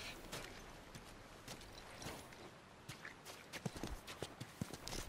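Steady rhythmic clip-clop of horse hooves on a hard surface in The Last of Us Remastered on PS4, moderately loud, with no voices.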